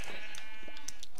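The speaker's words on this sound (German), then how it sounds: "Schafe, Schafe, Schafe." A Minecraft sheep lets out one loud, wavering bleat, close and sustained across the whole short moment, with no talking over it.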